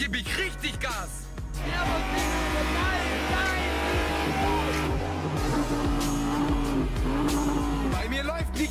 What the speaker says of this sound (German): Und jetzt gebe ich richtig Gas.